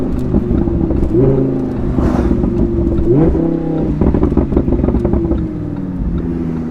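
A Lamborghini Huracan LP-610 engine revs loudly and close by, its pitch climbing and falling in repeated throttle blips over a steady, powerful idle, with no talking.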